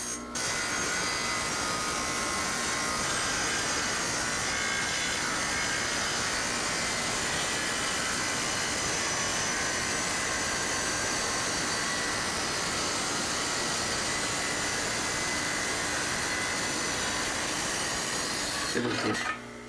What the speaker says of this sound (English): This saw is a great little tool, right?